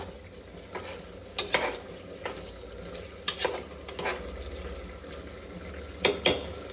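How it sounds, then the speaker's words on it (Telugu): Chicken curry cooking down in a pan until its released water evaporates: a low, steady sizzle close by, punctuated by sharp spatula scrapes and clinks against the pan at irregular moments, with no voices. "ఈ వాటర్ పోయిన వరకు బాగా మనము ఉడికించుకోవాలి"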